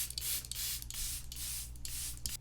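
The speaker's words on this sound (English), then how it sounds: "I'm gonna just add some setting spray." A Charlotte Tilbury makeup setting spray lets out about five close, soft hissing spritzes in quick succession, each a short misty burst, with no talking over them.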